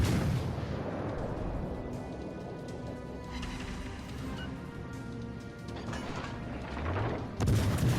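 Naval gunfire from a Royal Navy cruiser, HMS Belfast, in World of Warships Legends: dense, continuous booming and crashing battle noise with rumbling low end and a sharp fresh blast near the end, loud throughout.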